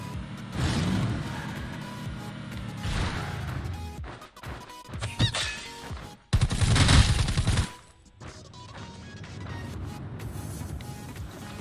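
Bursts of automatic and single gunfire in the battle-royale video game Rules of Survival, loud sharp volleys and cracks clustered in several rapid strings with gaps between them.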